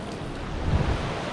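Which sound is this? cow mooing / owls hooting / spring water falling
spring water falling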